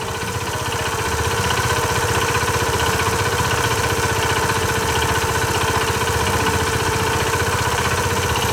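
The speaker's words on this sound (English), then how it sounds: "I'm gonna let it go and see if it continues to idle happily." A hot engine idles after a restart, running with a steady, even rhythmic chug at close range that holds unchanged throughout, with no talking.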